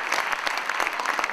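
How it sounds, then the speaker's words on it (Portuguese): Spontaneous applause from a studio audience at a Serbian entertainment show, a dense, steady wash of many hands clapping together, close and fairly loud throughout, with no talk over it. "Hvala, spontani aplauz."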